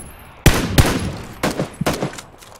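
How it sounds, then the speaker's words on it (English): Rapid bursts of video-game gunfire laying down cover fire around silos at a military base, several loud volleys separated by short pauses, with no talk. "Just laying down cover fire."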